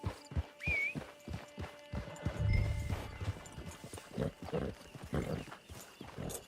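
A horse's hooves clip-clop in a steady rhythm in the video game Red Dead Online, moderately close, with occasional other game sounds around them.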